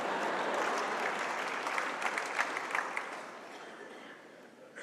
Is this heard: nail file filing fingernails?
no